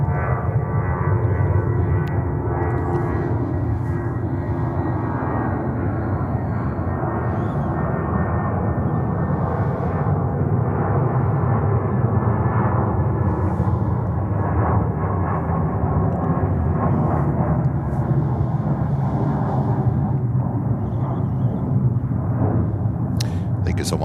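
A loud, steady jet roar comes from an Atlas Air cargo jet arriving from Anchorage at JFK Airport in New York. The drone holds at close range, with occasional voices faintly underneath.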